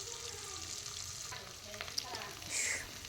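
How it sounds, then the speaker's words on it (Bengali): A paste of onion, garlic and ginger with turmeric, chili and cumin powder fries in a pan, giving a steady close sizzle with occasional stirring scrapes and a brief metallic clink. "তো মশলাটা কষিয়ে নেব"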